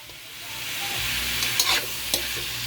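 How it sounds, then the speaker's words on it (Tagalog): Chicken feet sauté in a hot pan for adobo, starting with a low hiss that builds into a loud, steady sizzle, with a few sharp stirring scrapes and spatters near the middle. "Mga kastrong, naririnig nyo ba yung tunog? Ginisa pa lang natin yan mga kastrong, oh."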